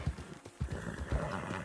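A horse in the video game Red Dead Redemption 2 whinnies, with a short, fairly loud neigh and snorting that rises over steady game background sound and faint hoof clatter.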